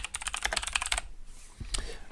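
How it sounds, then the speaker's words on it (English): Keys are pressed on a computer keyboard while a Raspberry Pi 4 is set up: a fast run of crisp, close clicks, a brief pause, then a couple more keystrokes. "I'm going to go ahead and hit F4 on my keyboard."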